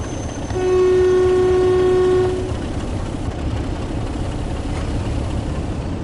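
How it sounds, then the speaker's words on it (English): A diesel locomotive horn in Train Sim World sounds one sustained, loud, harmonic blast lasting a couple of seconds, then gives way to a steady rumble of the moving train. "Couple of toots on the horn here."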